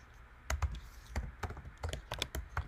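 Close, quiet typing on a computer keyboard: a short burst of distinct key clicks in an uneven rhythm, about a dozen strokes with brief pauses between them.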